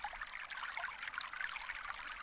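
Water stream sound effect from a sound library: a steady, close trickling and bubbling flow of water, continuous and alone with no voices.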